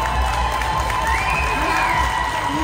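Crowd applauding and cheering for the singer at the Miss Amazigh de France 2023 pageant, a loud dense roar of clapping and shouts with a sustained tone running underneath.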